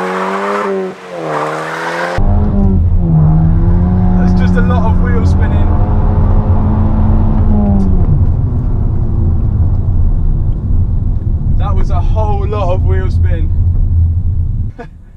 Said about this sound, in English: I'm gonna hold the handbrake up, sort of get the revs and just drop the handbrake